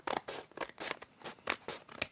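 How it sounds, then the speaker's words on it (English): Scissors cut through a scrap paper envelope in about eight quick, crisp snips, close and faint, with no voices. "Cut this bit open on the other side as well."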